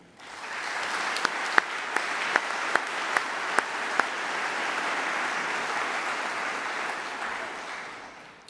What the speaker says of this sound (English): Please join me in a round of applause to thank all these many people.